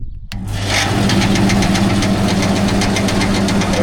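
A Zernyatko grain cleaning machine starts after a brief silence and settles into a loud, steady mechanical run with an even, rapid pulsing hum close by, and no talking.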